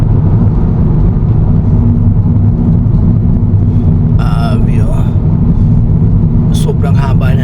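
Heavy traffic crawls along the North Luzon Expressway as a loud, steady rumble of car engines fills the whole stretch, with a brief horn-like tone rising near the middle and again at the end.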